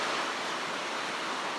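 River water flowing near Confluence on the Great Allegheny Passage makes a steady, close, full rushing wash with no breaks or voices.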